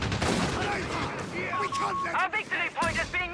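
Sniper rifle fire during a Company of Heroes 3 match between Afrika Korps and US forces, rapid overlapping shots and battle bursts packed together under a commentator's voice.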